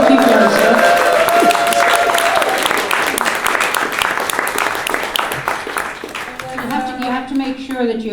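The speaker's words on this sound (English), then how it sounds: "Let's give another round of applause." An audience at a poetry and performance evening gives a sustained round of applause, the clapping dense throughout, with voices and some tonal sound mixed in underneath.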